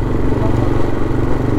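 A motorcycle rides over a cobblestone street, with a loud close engine drone and steady rumbling clatter from the stone surface throughout.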